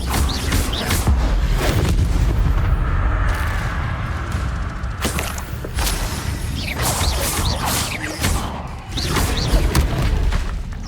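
A fire spell cast during combat in Hogwarts Legacy: loud, dense booms, whooshes and crashing impacts burst out repeatedly over a constant rumbling game soundscape, with brief dips between blasts.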